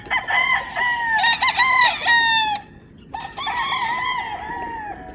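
An imported Asil broodcock, about six years old, crows loudly and close by, giving two long drawn-out cock-a-doodle-doos with brief clucking between them.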